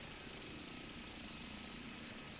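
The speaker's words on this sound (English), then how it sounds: "why is a Comanche attack helicopter flying over the highway" Comanche attack helicopter in a flight simulator game, its engine and rotor a steady, even broadband roar that is faint and continuous with no voices.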